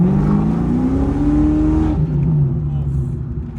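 A Ford Mustang V8 engine revs loud and close, its deep roar rising in pitch, then dropping and climbing again, with a voice speaking over it.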